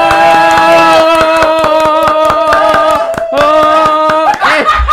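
Hand clapping in a podcast studio: a steady, rhythmic run of sharp claps close by, set against a sustained hummed or sung tone, with a brief pause before the clapping resumes.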